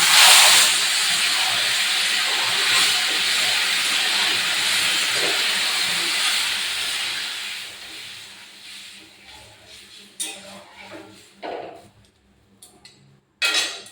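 Water poured into a hot pan of fried ghugni masala with tomato, onion and capsicum bursts into a loud, close hiss of steam. The hiss fades over several seconds into softer sizzling, broken by a few clinks.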